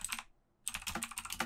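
Typing on a computer keyboard, a quick burst of close key clicks, then a half-second pause before a denser, steady run of keystrokes, faint and alone without any voices.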